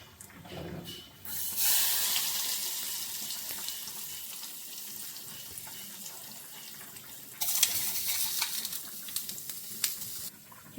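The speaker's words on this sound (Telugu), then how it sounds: "చేసేసి ఈ ఇంగు నూనె పచ్చళ్ళలో వేసేసుకోండి" Hot asafoetida oil poured over pickle, giving a sudden broad hiss and sizzle that sustains, eases off, then flares again loudly near the end, close and without talk.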